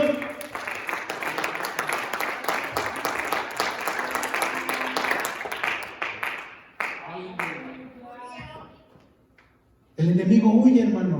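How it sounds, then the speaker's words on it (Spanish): A church congregation at a Spanish-language prayer service claps together in a strong, rhythmic burst that fades out over several seconds into near silence, followed by someone speaking loudly. "¿Pueden darle un aplauso al Señor?"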